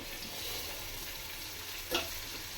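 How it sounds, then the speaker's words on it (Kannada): Four or five green chillies frying in hot oil for a chicken biryani, a soft steady sizzle with a brief stir or scrape near the end, heard alone at low level. "ಒಂದು ನಾಲ್ಕೈದು ಮೆಣಸಿನ ಮೆಣಸಿನ್ಕಾಯಿ ಹಾಕೊಂಡಿದ್ದೀನಿ ಅದನ್ನು ಫ್ರೈ ಮಾಡ್ಕೊತಾ ಇದ್ದೀನಿ"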